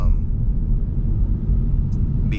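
Low, steady road rumble and engine drone from inside a Ford Mustang GT cruising through Dallas traffic, dense and close throughout, with a couple of faint high squeaks near the end.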